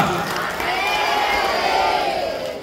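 Audience at a Hindu Bhagavat katha discourse cheering and calling out together, a loud sustained crowd roar with scattered clapping that swells and holds steady for a few seconds.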